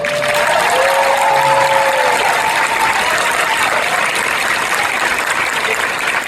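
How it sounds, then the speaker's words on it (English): Audience applause fills a comic con panel hall for Grant Gustin, a steady dense wash of clapping with whistles or cheers rising early on, continuous and loud throughout. "I'll give a huge round of applause for all that"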